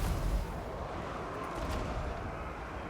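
Artillery fires in a Total War: Warhammer 2 battle as a low, rumbling barrage of distant booms that stays faint and steady throughout.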